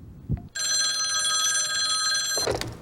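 Telephone bell rings steadily and loudly for about two seconds during a radio call-in quiz segment, a brief knock or thump just before and a clatter as it cuts off.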